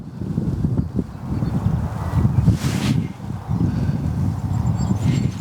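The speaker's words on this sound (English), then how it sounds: "The wind's sort of blowing into my face" Gusty wind buffets the microphone beside a fishing pond, a low rumbling roar that swells and eases in waves, with a brief hiss of rustling midway.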